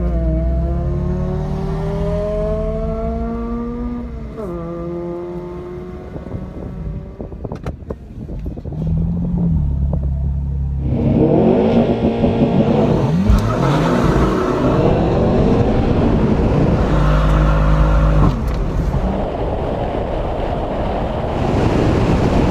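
Subaru STI and BMW M4 engines rev and accelerate hard side by side in a father-versus-son drag race, a loud rising roar with audible gear shifts, wind buffeting the microphone throughout.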